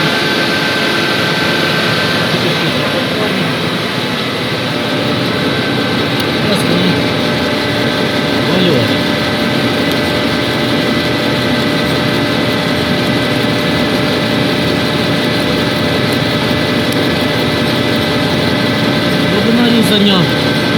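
A CNC milling machine run under Mach3 cuts a metal part, giving a steady, loud mechanical hum and grinding drone with a spindle whine, continuous throughout and heard alone.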